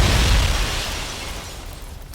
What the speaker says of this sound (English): Explosions triggered in their escape route.